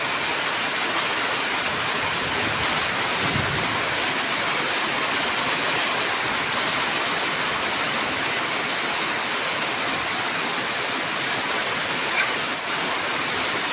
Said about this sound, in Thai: วันนี้ฝนตกลงแล้วนะคะตกแรงด้วยนะคะ